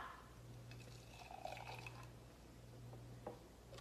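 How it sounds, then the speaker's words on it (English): Blended matcha latte poured into a cup, a soft trickling liquid stream close by over a low steady background hum, no talking. "just pour it in a cup"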